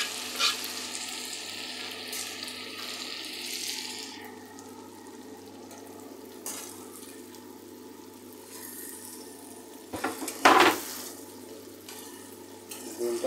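An egg fries in a pan with a quiet, steady sizzle, and one louder burst of crackling or scraping comes partway through; the sound is fairly faint and no one speaks.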